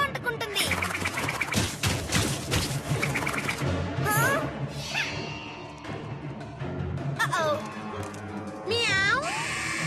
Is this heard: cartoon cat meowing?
yes